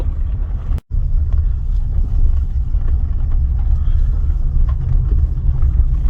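From inside a Toyota Corolla on a rough, passable road in Pakistan, a steady low rumble of engine and tires runs throughout, broken by a brief dropout and scattered small knocks from bumps.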